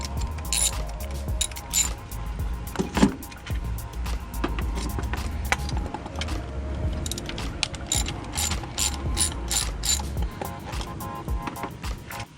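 A ratchet quickly turns out 10 mm screws on a Nissan HR16DE engine in a Versa, March or Note, a rapid, steady metallic clicking heard close over a low background rumble.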